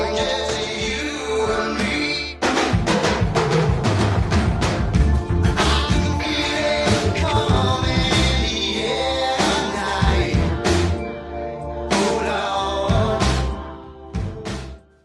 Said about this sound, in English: What Hugh Padgham got was the legendary gated drum sound